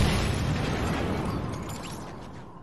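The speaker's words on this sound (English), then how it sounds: "And then you slam into a huge exploding wall, which allows you to reset and do it all over again." Huge exploding wall in the video game Fortnite, a loud dense blast of rumbling noise that slowly fades over a few seconds, with no talk.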